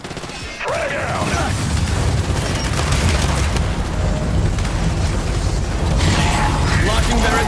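A frag grenade goes off in the Gears of War 5 video game. A sharp burst is followed by a loud, sustained roar of explosion and battle noise that fills the clip.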